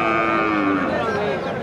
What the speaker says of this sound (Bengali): ভাই এটা তো বকন গরু